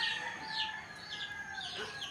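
Chickens cluck on a farm, with a few close, rising and falling squawks and calls over a quiet background.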